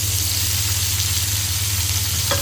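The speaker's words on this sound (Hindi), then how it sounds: "जैसे ही कुकिंग ऑयल थोड़ा सा गर्म होगा फिर इसके अंदर हम डाल देंगे प्याज।" Onions sizzle in hot cooking oil in a kadhai for biryani, a loud, steady frying hiss over a low constant hum that continues without a break.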